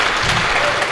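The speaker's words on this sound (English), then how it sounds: "before you guys continue to clap" An audience claps at a live podcast, giving a short, dense burst of loud applause from a close crowd.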